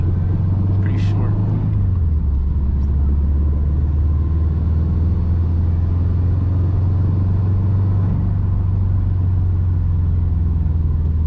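Car engine inside a 2006 Subaru WRX with a JDM 4.44 gearbox, heard from the driver's seat as a steady low drone that drops in pitch at a gear shift early on, then holds at a constant, muffled level.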